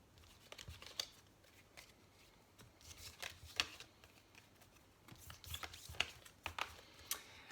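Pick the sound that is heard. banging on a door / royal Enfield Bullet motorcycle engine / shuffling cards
shuffling cards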